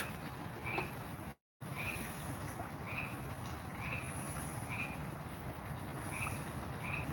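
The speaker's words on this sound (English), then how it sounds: "Hear the frogs." Frogs in a pool give repeated short, chirping croaks at a regular pace, about one every second, over a constant hiss of night insects, faint and distant.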